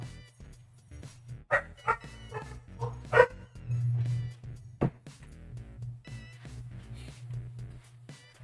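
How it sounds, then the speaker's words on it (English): Dogs barking indoors in a house, a series of sharp irregular yips and barks, some close and loud, others fainter, over a steady low hum. "I was trying to prevent the dogs from barking"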